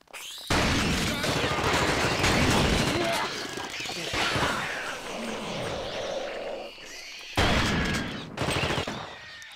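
Sustained gunfire in the PC game The Thing, a dense, loud barrage of rapid shots filling most of the stretch with brief pauses and a renewed burst near the end, with talking mixed in.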